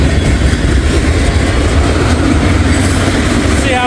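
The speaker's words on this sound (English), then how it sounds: "It's a long train here." A long freight train rolls past close by on the tracks, a loud continuous rumble of railcars with rhythmic wheel clatter and a faint squeal near the end, no voices over it.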